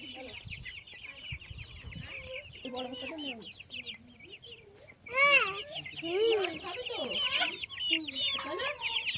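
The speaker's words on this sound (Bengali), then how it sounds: "বিহান তুমি মুরগি দেখছো" Domestic chickens kept at a home cluck and squawk nearby in scattered bursts, with a louder flurry midway, while people, including a child, talk in the background.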